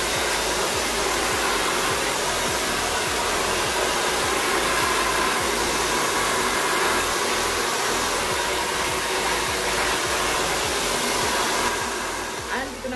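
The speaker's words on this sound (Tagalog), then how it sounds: "na blow dry ko na siya ng very light" Hair dryer blow-drying hair lightly before a Brazilian blowout treatment, a loud steady broadband whoosh running continuously and close by, easing slightly at the very end.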